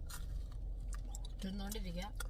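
Neyyappam, a fried sweet rice cake, is bitten and chewed by someone driving a car, giving close, soft crunching and mastication sounds over faint road hum, with a voice briefly sounding partway through.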